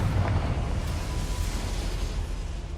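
A Confringo fire spell explodes in the Hogwarts Legacy video game, a loud, dense burst of roaring blast noise that fills the whole moment and rumbles on without pause.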